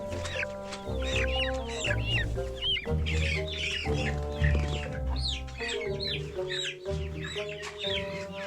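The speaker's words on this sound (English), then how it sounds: "we're rescuing the chickens, guys." Chickens rescued from a rain-flooded coop and moved into a larger chicken tractor cluck and squawk nearly nonstop, several birds calling close by and loud with no voices over them.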